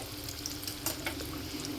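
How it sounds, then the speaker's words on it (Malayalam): Potato masala bonda coated in a roasted rice flour batter frying in hot oil, a steady close sizzle and crackle running throughout with no talk. "രണ്ട് സൈഡും നന്നായിട്ട് മൂപ്പിച്ചെടുക്കണം"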